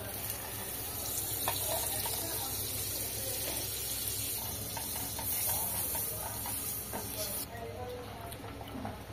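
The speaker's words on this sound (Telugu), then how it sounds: "ఇప్పుడు దీంట్లో ఇంతకుముందు తీసి పెట్టుకున్న బటర్ ఉంది కదా, ఆ క్యూబ్ వేసేద్దాం." A cube of butter melts in a hot pan on the stove and gives a steady, close hiss and sizzle throughout with no speech.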